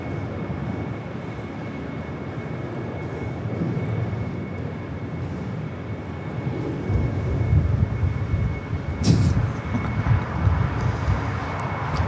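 Jet aircraft taking off or landing at LAX, a steady broadband engine roar sustained throughout and growing somewhat louder and rougher toward the end, with no talk.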